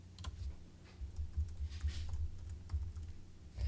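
Someone types account details on a computer keyboard during signup for a project management app, producing a quiet, uneven patter of key clicks in short bursts with no speech.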